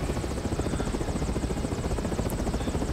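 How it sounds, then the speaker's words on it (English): Steady, loud rotor thump of an ominous helicopter in the video game Resident Evil 6, a continuous pulsing drone with broadband engine whine that holds constant throughout, with no talk over it. "The ominous helicopter from the thing."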